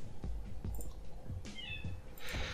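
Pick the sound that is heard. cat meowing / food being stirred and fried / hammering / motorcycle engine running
cat meowing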